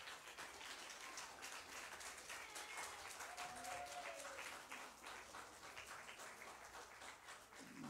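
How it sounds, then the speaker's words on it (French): Congregation applauding during a Sunday church service, a steady, fairly faint wash of clapping that fills the whole stretch, with a brief voice or tone rising through the middle. "On nous applaudit."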